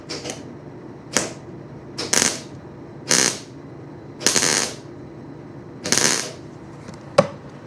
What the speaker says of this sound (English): I don't know which way to tack first.